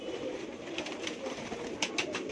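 Domestic flying pigeons, Bajra and Allahabadi breeds, coo softly in a home loft in Mumbai, a low continuous murmur with a few brief higher flutters or chirps near the end.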